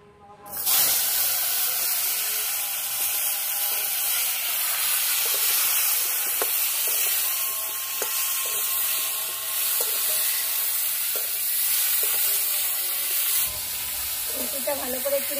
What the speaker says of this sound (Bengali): ওই তেলেই ফুলকপিটা ভেজে নেব।